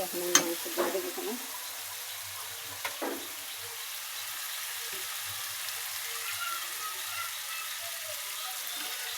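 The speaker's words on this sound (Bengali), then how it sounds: "মশলাটা আমার ভালো করে কষানো হয়ে গেছে, এখন আমি মাংস দিয়ে দেবো।" Chicken pieces are dropped into a frying spice paste and stirred, a few bumps and clatters up front, then a low steady sizzle that carries on faintly alone.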